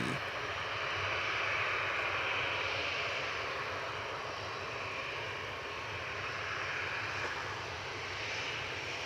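A steady, loud roar from an airliner's engines at Gold Coast Airport on a flight departing for Sydney, a broad continuous rumble that swells slightly and holds for the whole stretch, with no talk over it.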